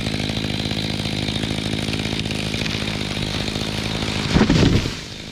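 A chainsaw cuts down a live oak tree in Florida, its engine droning loud and steady up close, then surging in a brief heavy burst near the end before dropping back.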